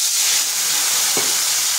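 Cumin, coriander and chilli powders in a pan hiss and steam loudly as a little water hits them, a steady broad sizzle with a brief low burst partway through; no talking.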